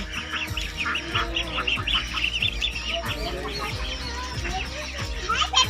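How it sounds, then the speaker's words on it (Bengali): Ducks and ducklings inside a duck house give a busy, overlapping stream of quacks and chattering calls, close by and steady throughout, with occasional low thumps beneath. "এইটা হচ্ছে হাঁসের ঘর আর এই দেখো এইখানে অনেক বাচ্চা বাচ্চা হাঁস"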